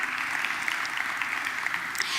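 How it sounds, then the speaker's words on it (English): Audience applause at a global conference panel as a speaker, a child labor survivor, walks up to the stage; a steady, dense wash of clapping from many hands, fairly distant and continuous throughout. "If we can give Tara a big round of applause as she makes her way up."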